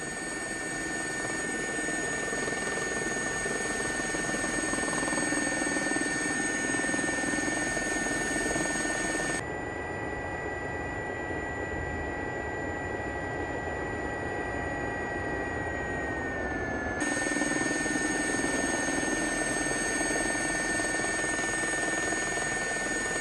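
Steady whine and rotor drone of a JRX Gazelle helicopter in a flight simulator game, continuous and fairly loud, dipping to a muffled, quieter tone for several seconds in the middle before returning to full level.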